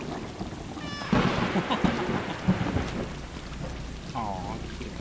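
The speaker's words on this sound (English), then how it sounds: "Let's see if we can turn down the thunder just a tad." Rolling thunder with steady rain in the video game Stray, a loud rumble breaking in after a short chime and washing over continuous rainfall, with a brief game tone near the end.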